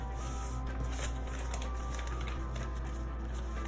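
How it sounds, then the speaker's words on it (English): Paper mail envelopes holding zines being torn and opened up close, crisp rustling and crinkling of paper in a steady stream over a low background hum. "let's go ahead and open up some of these envelopes"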